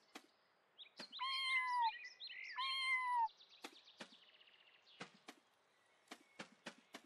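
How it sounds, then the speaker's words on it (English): Cat meowing in a video game, a couple of clear close meows followed by sparse, sharp clicks and taps in an otherwise quiet scene. "Look, a cat."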